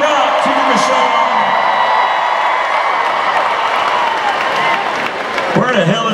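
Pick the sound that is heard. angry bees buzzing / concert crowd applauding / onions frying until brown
concert crowd applauding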